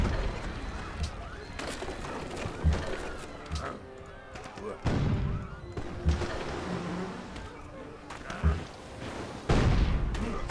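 Repeated booming cannon shots from the video game Civilization 5, in an American Civil War scenario, thud at irregular intervals over busy game noise, with a voice talking faintly in places.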